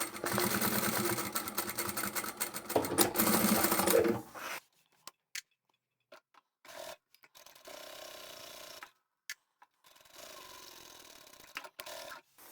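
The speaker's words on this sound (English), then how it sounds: "I'll backstitch over that again and go to the end and backstitch" Sewing machine backstitching along a bulky vinyl bag seam, running in loud steady bursts for about four seconds, then stopping and restarting in short intermittent stitches and brief runs.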